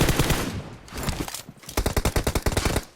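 Automatic gunfire rattles in PUBG Mobile: loud, close bursts of rapid shots, the last burst a tight, even volley, with no voices.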